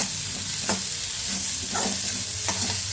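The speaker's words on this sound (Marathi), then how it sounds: "आता चमच्याने मी हलवून घेणार आहे।" A spoon stirs potato bhaji with garlic in a hot pan, giving a few distinct scraping strokes over a continuous close sizzle, with no one speaking.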